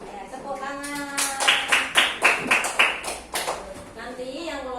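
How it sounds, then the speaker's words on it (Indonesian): A class of children claps hands together in a short burst of about nine distinct, fairly loud claps in a steady rhythm, with children's voices talking before and after. "Ya, tepuk tangan."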